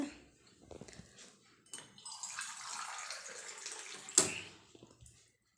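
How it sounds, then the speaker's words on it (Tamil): A measured glass of water is poured into a pressure cooker on a stove while making beetroot sago, a soft splashing pour after some light clinks, ending with a sharp clatter. "ஒரு கிளாஸ் தண்ணி அளந்து ஊற்றிக்கிட்டேன்"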